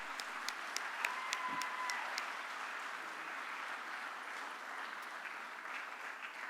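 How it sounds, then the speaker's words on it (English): Audience applause for honorees at the 2019 Georgia Tennis Hall of Fame ceremony, a steady, dense wash of clapping that carries on evenly through the whole stretch, moderately loud with no voices on top. "let's give everyone a round of applause one more time"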